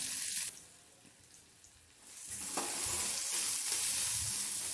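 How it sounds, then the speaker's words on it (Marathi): Onion and cumin fry in oil in a kadhai with a loud hissing sizzle. It drops away briefly after the first half second, then swells back louder and steadier to the end, with faint stirring. No one talks. "कढईमध्ये तेल, थोडंसं जिरं आणि कांदा टाकून छान असा कांदा आपल्याला ब्राऊन रंगावर तळून घ्यायचा"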